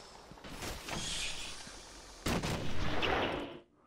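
Sniper rifle fire in the video game Batman Arkham Asylum, with two sharp shots about two seconds apart, each followed by a hissing, echoing tail.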